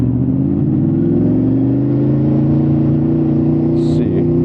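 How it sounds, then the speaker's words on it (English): A Honda VFR800 V4 motorcycle engine runs loud and steady close by, its tone rising slowly as the revs climb, with a faint brief sound near the end. "Makes an amazing sound, but that's the V4 for you"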